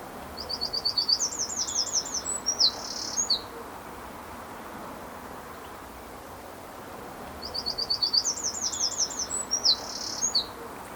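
A garden bird singing a truncated version of its standard phrase, two short bursts of quick high twittering notes separated by a quiet pause, fairly faint over soft background hiss.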